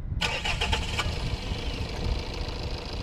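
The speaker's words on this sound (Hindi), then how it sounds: "अब एक बार मैं आपको इसका इंजन स्टार्ट करके दिखाता हूँ।" Tata Sierra 1.5 litre diesel engine starting: a short cranking burst with rapid pulses, then the engine catching and settling into a steady, close diesel idle.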